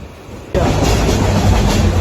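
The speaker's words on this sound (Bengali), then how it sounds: "দাঁড়ানোর পর ট্রেন ছেড়ে দিল আর আমাদের যাত্রা এখানেই শুরু" A passenger train pulling away from a station, a loud, close rumble of railcars and clattering wheels that kicks in abruptly and holds steady.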